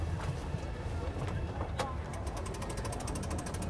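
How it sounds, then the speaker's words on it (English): A fuel pump ticks in a rapid, even series of sharp clicks that begins partway through, heard close over a low steady background hum. "I hear the fuel pump."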